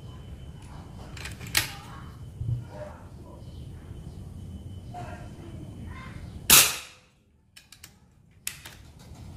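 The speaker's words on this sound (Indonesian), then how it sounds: "Tembakan kedua." A sharp folding PCP air rifle shot with an 18-grain pellet cracks out once, loud and close, followed by a quick decay into quiet, with faint clicks and rustling before and after.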